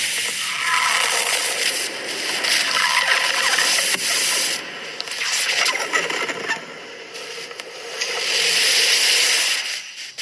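Red-hot metal balls dropped into ice give a loud, continuous sizzling hiss with crackling and popping layered through it, swelling and easing in waves.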